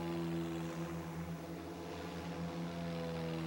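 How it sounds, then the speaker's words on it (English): Engines of the Cyclo Crane hybrid airship aircraft run at full power, a steady droning hum with strong tonal propeller harmonics, continuous and even throughout with no voices. "The second engine is now started, and after warm-up, full power is applied."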